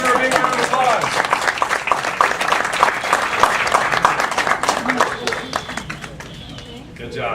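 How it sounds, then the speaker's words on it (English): An audience at a workshop breaks into loud, dense applause that holds steady before thinning out toward the end, with a few voices and cheers mixed in. "Everybody give her a big round of applause"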